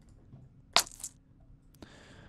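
Foley of a butternut squash being struck or pierced for a stabbing effect: one sharp, wet crunching hit followed by a short squelchy tail, then a quieter second impact near the end, close and alone.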